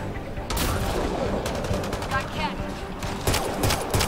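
Rapid bursts of gunfire in the sci-fi shooter Mass Effect Andromeda, several clustered volleys of sharp shots at moderate level, with game noise and some talk underneath.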